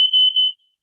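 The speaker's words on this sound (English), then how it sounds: "the fire alarm's going off in the background is being tested" A fire alarm under test sounds a loud, steady high-pitched electronic tone for about half a second in the background, then cuts off into near silence.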